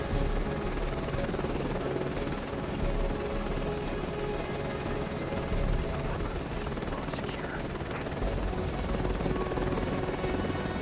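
A helicopter hovers in Microsoft Flight Simulator 2024, a constant loud rotor and engine drone with steady whine, unbroken throughout.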